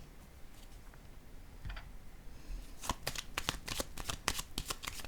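Tarot cards being shuffled by hand, starting with a few light riffles and building into a quick run of crisp, close card snaps.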